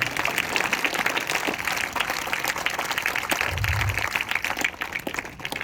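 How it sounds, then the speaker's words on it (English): A school audience applauds class 3rd A students after their Seven Wonders of the World presentation, a moderate, fairly steady spatter of clapping heard at some distance. "So big round of applause for each and every student."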